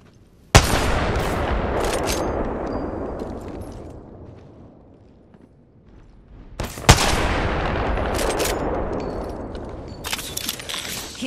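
Gunfire in the Apex Legends video game: two loud bursts of rapid shots, one near the start and another around the middle, each followed by sustained rumbling and scattered further shots, with no talk.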